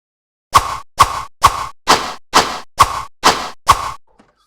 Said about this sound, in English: the metallic clang of a sword strike